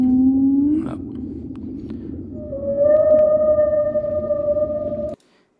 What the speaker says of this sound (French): Quelques bruits de baleines qu'on va pouvoir aussi ajouter sur une autre piste son